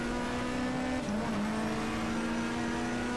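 BTCC touring race cars, including the Volvo S40, at a 1997 British Touring Car Championship race, their engines droning loud and steady with a continuous pitched roar throughout.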